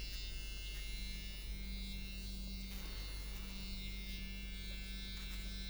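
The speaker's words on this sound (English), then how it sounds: "So this is a transdermal sonic pulsation." A transdermal sonic pulsation facial beauty device buzzes with a steady, faint electric hum held close to the skin, with no speech.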